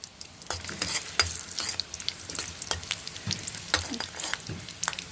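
Cumin seeds frying in a pan, crackling steadily with rapid clicks and scrapes of stirring at close range, with only faint traces of voice in the background.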